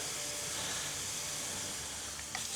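Steady hiss of ground pepper, paprika and garlic powder sizzling in oil in a frying pan, even and continuous throughout, with a faint clink near the end.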